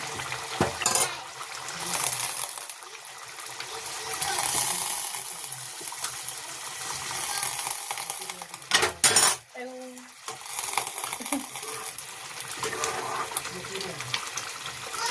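Fish pieces go into a hot pan for an Assamese fish curry with tomato and narasingha leaves, bringing clattering utensil knocks, stirring scrapes and a steady sizzle, with a sharp bang midway and a voice talking over the cooking.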